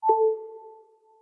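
iOS 11 Connect Power wireless charging alert: one short synthetic chime of two steady, clear tones that ring on into a drawn-out, fading echo, heard alone.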